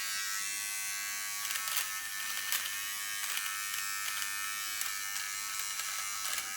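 Electric nose hair trimmer buzzing steadily and close, with brief crackling bursts as it cuts nose hairs, continuous for several seconds without talk.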